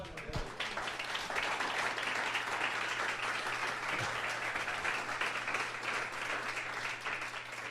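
A church congregation applauds during a sermon, a sustained, even roar of many hands clapping that carries on for nearly eight seconds at moderate, somewhat distant loudness.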